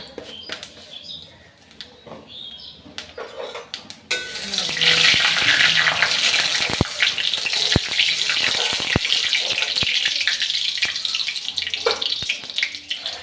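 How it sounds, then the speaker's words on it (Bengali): Dried red chili and five-spice seeds go into hot oil in a kadai for a lentil dal tempering, with a quieter start that swells into a loud, steady crackling sizzle and a few sharp clicks, and no talk. "দেখো আমার লঙ্কাটা ভাজা হয়ে গেছে, ফোড়নে যে 5 ফোড়ন দিয়েছিলাম সেগুলোও ভাজা হয়ে গেছে।"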